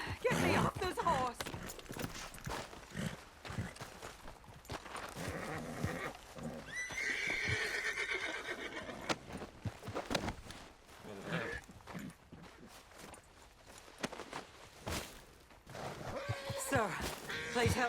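A horse in Red Dead Redemption II gives a brief whinny midway, amid hoofbeats, game ambience and people talking.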